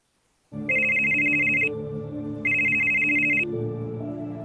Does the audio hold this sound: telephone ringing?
yes